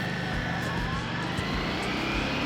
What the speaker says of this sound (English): let's rev the engine hard